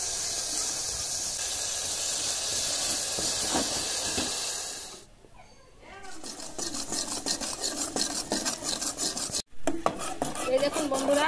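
Water poured onto sugar burnt to caramel in a pan sends up a loud steady hiss that suddenly drops away, then returns as a rougher, bubbling sizzle with stirring and scraping, close and without talk.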